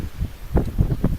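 Low, gusting wind from a blizzard buffets the microphone in short rumbling pulses, gusts up to 90 miles an hour, close and moderately loud, with no voices.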